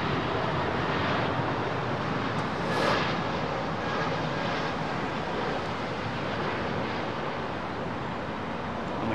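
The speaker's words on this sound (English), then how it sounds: "He may have RTO'd halfway down the runway though, Jilly, so, and then he's just rolled it all the way out" Steady, broad roar of an airliner rolling down the runway at London Heathrow, heard continuously at moderate distance with a brief swell partway through.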